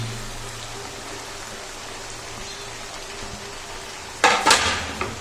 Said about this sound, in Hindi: अब इसमें हम बंद गोभी डाल देंगे, बारीक कटी हुई।